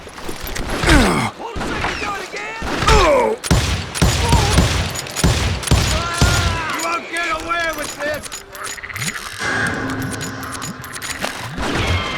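Gunfire from the video game Call of Juarez: Gunslinger rings out in sharp, loud bursts of rapid shots with clanking mechanisms between them, followed by quieter ambient tones and a voice talking.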